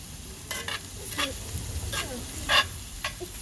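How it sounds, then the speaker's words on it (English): Frozen corn sizzles in a hot pan while a utensil stirs it, making a soft continuous fry with several distinct scraping strokes and brief clatters, close and moderately quiet. "I'm going to stir that up."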